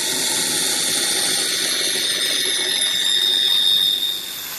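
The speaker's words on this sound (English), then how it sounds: "I'll cut those on the bandsaw and smooth them up." A bandsaw cuts through wooden end boards for a coffee table, giving a steady, loud, bright whine and rasp that runs unbroken for several seconds before easing slightly at the end.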